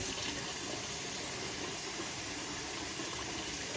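Warm water runs steadily from a kitchen tap, a continuous close hiss and splash that holds level throughout with no talking.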